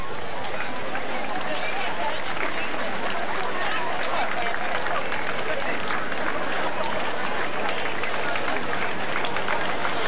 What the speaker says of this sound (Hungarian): Nagy tapsot kérünk a produkciónak.